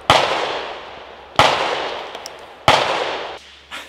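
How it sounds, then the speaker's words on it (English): Sharp gunshots from a nearby shooter at an outdoor firing range, three loud cracks spaced about a second and a half apart, each trailing into a rolling echo, with a fainter fourth shot at the end. "This guy behind me is driving me crazy with whatever it is he's shooting."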